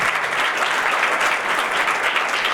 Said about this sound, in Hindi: जोरदार तालीम देंगे खुदा के नाम में